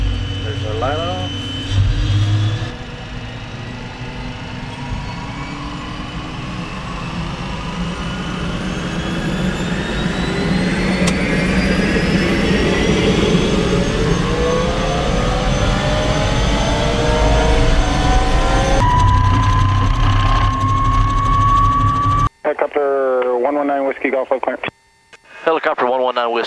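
An Agusta 119 Koala helicopter's turbine engine winds up from cold start, a rising whine climbing steadily over a loud, continuous rumble, then cutting to radio chatter at the end.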